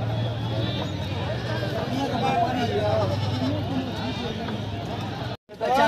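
Sheep and goats bleat in a busy livestock market, the calls mixed with a low steady hum and the murmur of a crowd, with people talking nearby throughout.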